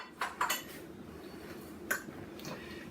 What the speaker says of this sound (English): I'm washing my dishes and cleaning off my surfaces here and drying everything